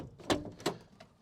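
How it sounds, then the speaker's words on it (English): The door of a 1969 Chrysler Town & Country wagon opens, giving two distinct close mechanical clunks a third of a second apart, followed by a fainter click. "Now, let's use the door."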